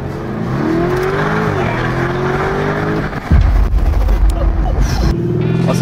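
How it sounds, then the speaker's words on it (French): Luxury car engine revving in its sportiest drive mode, a rising and falling rev heard from inside the cabin, then a sharp louder burst of deep exhaust roar near the end, with faint talk underneath. "Regardez le bruit en mode sport."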